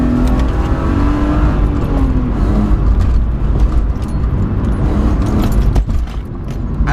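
An engine-swapped BMW E36 accelerating hard from around 7,000 rpm, the engine note loud and close with a steady raspy roar that sustains throughout.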